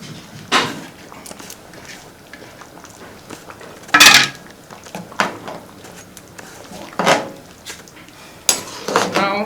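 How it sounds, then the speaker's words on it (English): Periwinkles tipped into a pot of Ofe Owerri soup, giving several sharp clattering bursts of small shells hitting metal, close and spaced a few seconds apart, with quieter scraping between and someone talking. "finally, we're going to be adding our periwinkle"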